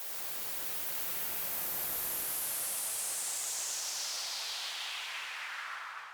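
A steady wash of synthesized noise for an EDM riser, thick with reverb, rising and then slowly sweeping downward in tone over several seconds before fading slightly.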